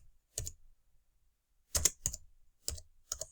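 Typing on a computer keyboard: a few separated bursts of quick key clicks, close and fairly quiet, with silence between them.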